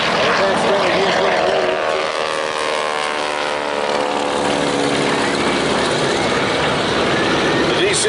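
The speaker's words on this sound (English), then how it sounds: "T-6 Texan now taking to the skies." A T-6 Texan propeller trainer flies past at an airshow, its engine a loud, sustained drone with pitch sliding as it passes, while a commentator talks over the PA throughout.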